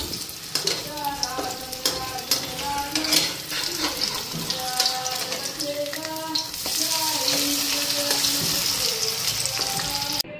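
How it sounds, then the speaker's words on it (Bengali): Battered eggplant fritters (beguni) frying in a home kitchen, a steady close sizzle with bursts of bubbling and occasional stirring clinks, while a voice talks over it throughout. "এদিকে বেগুনি ভাজাটাও বসায় দিলাম।"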